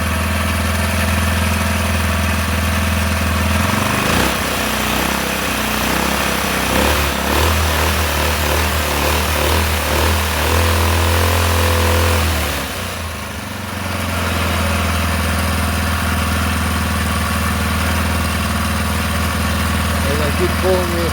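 Small four-stroke engine with a throttle cable being adjusted, starting up after a pull and running at a steady, loud idle for most of the stretch, with a short dip in level near the middle and a voice heard over it.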